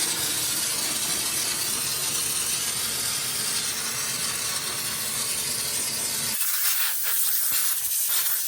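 A parts washer sprays and hisses steadily while cleaning a Fiat Panda 4x4 differential carrier of metal swarf, a dense continuous wash that cuts off abruptly near the end, leaving sparse clatter and drips.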